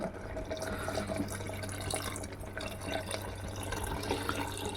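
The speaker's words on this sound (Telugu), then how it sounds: "చూడండి వాటర్ వేస్తున్నాను." Water running steadily into a cooking pot while making semiya biryani, a continuous close splashing flow with no talk.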